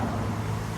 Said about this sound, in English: Excuse the noise of the cars